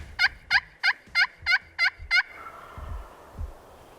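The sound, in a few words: wild turkey gobbling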